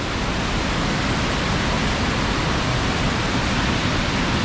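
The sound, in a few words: waterfall, Falls of Clyde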